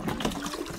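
Water splashes and pours during the bathing of a pig on a farm, a brief steady wash of close liquid noise with no voices over it.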